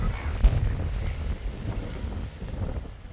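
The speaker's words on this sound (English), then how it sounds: "Yeah, not liking this wind." Gusty wind buffeting the microphone outdoors on a farm at feeding time, a low rumbling roar that swells and eases without any talk.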